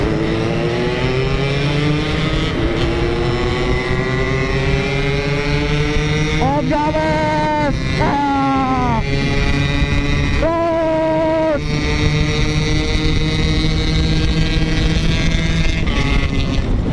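A car passes amid racing motorcycles, engine notes sweeping up and down in pitch as vehicles roar by close, over a constant loud engine drone.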